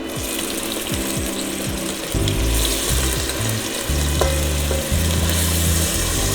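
Pork frying in melted fat for vindaloo, a steady close sizzle running throughout, with pieces hitting the pan and being stirred in a few distinct louder stretches.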